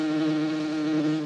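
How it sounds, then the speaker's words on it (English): A bee buzzing steadily and loudly close by, a continuous droning hum with no talking over it. "Oh, well, that's a bee."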